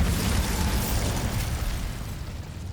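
The Bombarda blasting spell in Hogwarts Legacy goes off as a heavy, deep explosion, a loud burst that rumbles and slowly fades over a few seconds.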